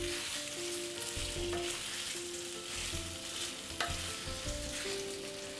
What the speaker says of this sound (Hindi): और बहुत ही हल्के हाथ से मैं इसे मिक्स करूंगी